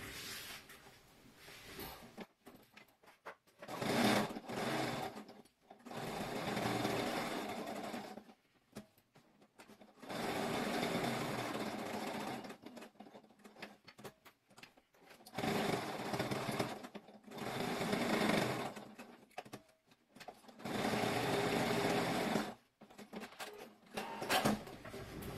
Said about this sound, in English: We're now going to baste stitch those card pockets to our main lining, completely around.